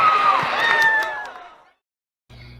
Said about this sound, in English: the cheering of the crowd makes it all worth it